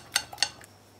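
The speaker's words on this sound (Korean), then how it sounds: "그리고 야채를 넣고 저어주세요. 이렇게 계란을 저을 때는 같은 방향으로 이렇게 저어줘야 됩니다." Eggs and chopped vegetables stirred in a bowl with a utensil for a Korean pork jeon batter, giving two sharp clinks against the bowl and a softer tap within about a second, close and clear with no talk.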